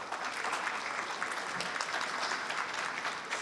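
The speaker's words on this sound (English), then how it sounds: "Can we please have a round of applause for all our speakers?" A conference audience gives applause to its panel of speakers before a closing plenary on agriculture, a quieter, even wash of many hands clapping with no voices.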